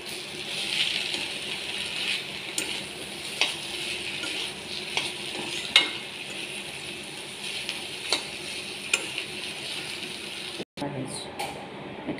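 Prawns frying in a hot pan with cabbage, a steady close sizzle punctuated by sharp scraping and clinking of a stirring utensil, with a brief dropout near the end.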